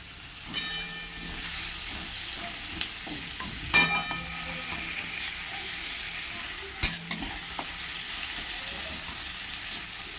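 Catla fish head frying with onions in a pan makes a soft, continuous sizzle, broken by a few sharp clinks of a spatula stirring against the pan.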